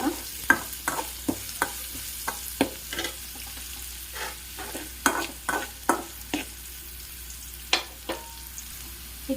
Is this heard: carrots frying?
yes